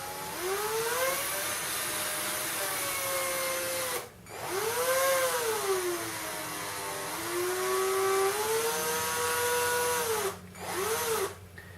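A power drill spins an electric shaver head against its blades with oil and grinding paste, making a steady, loud whirring drone whose pitch rises and falls, broken by two short pauses.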